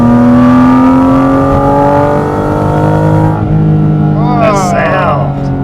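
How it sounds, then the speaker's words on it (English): A Porsche Cayman GT4 RS engine with its loud air intake accelerating hard, heard from inside the cabin as rising engine tones climb through the gears, loud and close, with a brief shift near the end. "That sound. God, that air intake."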